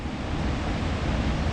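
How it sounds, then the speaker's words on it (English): Big ocean swell breaking at Depoe Bay on a windless day, a loud continuous wash of surf with no voices. "So it's not current wind that's pushing these waves and making them so big."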